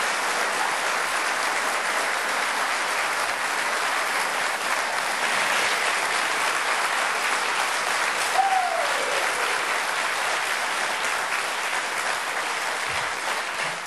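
Audience applause for a guest at a university college-tour talk show, a loud, dense and steady roar of many hands sustained for the full fourteen seconds, with no talk over it.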